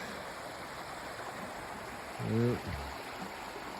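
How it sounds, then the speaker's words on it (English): A small forest brook near Dukes Creek Falls outside Helen, Georgia babbles in a steady, soft rush, with a man's brief spoken word and a short tonal sound partway through. "babbling brook."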